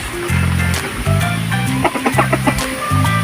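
Rhode Island Red crossbreed hen clucking in a run of short, close, fairly loud calls, with other birds chirping faintly behind.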